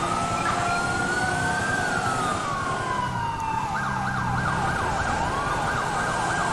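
A police siren on an LASD Caprice patrol car in LSPDFR wails continuously, first in slow rising-and-falling sweeps, then switching to a rapid yelp, over a steady engine rumble.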